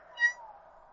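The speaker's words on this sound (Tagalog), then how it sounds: "Naamoy siguro na mahilig ka sa pusa." A single short cat meow rises clearly out of quiet near-silence, a brief tonal cry followed by a faint lingering low hum.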